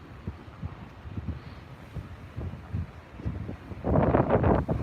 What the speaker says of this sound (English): I don't know if you guys can still hear that wind or not